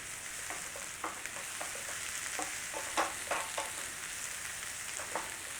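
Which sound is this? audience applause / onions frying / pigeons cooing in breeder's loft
onions frying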